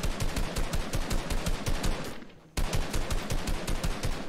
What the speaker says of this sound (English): He missed most of his shots just then.